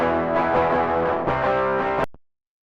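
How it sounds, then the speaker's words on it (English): Guitar in a punk rock recording played through a Logic tube screamer overdrive pedal plugin with no drive, maximum level and tone near halfway: a sustained, buzzing chord that shifts once midway, then is abruptly cut off, followed by a brief faint tail. "It's an overdrive pedal,"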